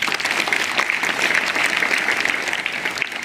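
Sustained audience applause at a school Hindi Day celebration, dense and steady throughout, fairly loud and with no speech over it.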